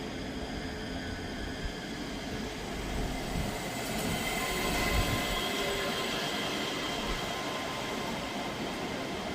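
Class 385 electric train at Edinburgh Haymarket station, a steady close rumble of wheels on rail with faint squealing, swelling slightly midway and staying loud throughout.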